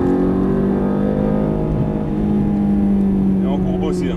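A Ferrari F430 on a racetrack holds a loud, steady engine drone with a slight rise in pitch throughout, and a voice talks over it.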